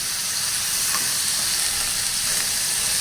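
Taro stolons and dried fish cook in a pan with a loud, dense, continuous sizzle that does not change, close by, with no voices.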